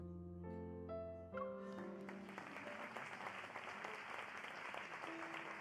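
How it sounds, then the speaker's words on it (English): Applause swells through a banquet hall in the video game Love and Deepspace, rising as sustained, even clapping after a held musical chord and continuing steadily with faint tones drifting over it. "Applause fills the hall."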